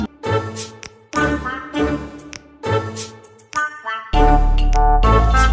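A mobile phone ringtone plays loudly and clearly, a melodic repeating tune in regular phrases with brief gaps, ending in a sustained louder passage and no speech over it.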